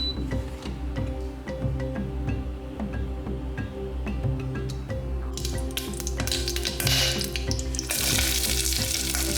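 Garlic and ginger sauté in a heavy-based pot for a turmeric fish curry, a continuous close sizzle with scattered ticks and taps, growing brighter and louder partway through.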